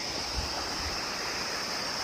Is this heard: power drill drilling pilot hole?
no